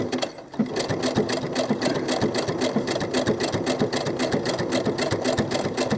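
A sewing machine stitches doll clothes fabric in a fast, continuous run of needle strokes, loud and close, starting after a brief pause at the very beginning.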